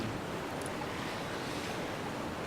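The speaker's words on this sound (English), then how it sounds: "you can hear the sound of a waterfall" Waterfall in the Biohazard 2 video game, a steady, unbroken rush of broadband water noise that holds at a constant level throughout, with no voices.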